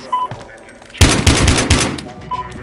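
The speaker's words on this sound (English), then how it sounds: "Gunfire reported." Gunfire in the Battlefield video game: a sharp burst of rapid automatic shots starting abruptly, several loud close cracks over about a second, with radio-style chatter and game ambience around it.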